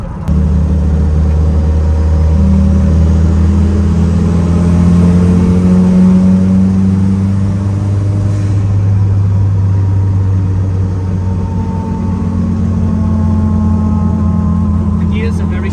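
Kimera Evo37 rally car engine pulling hard through short gears with a steady loud drone and rising harmonic tones, heard from inside the cabin while people talk over it.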